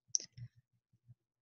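A computer mouse clicks on an OK button in simulation software: a sharp, close click followed by a few faint, soft clicks spaced over about a second, with no talking.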